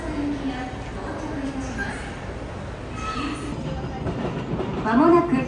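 A bullet train rumbles and clatters alongside a platform in Japan, with people talking nearby and a rising whine as it pulls in.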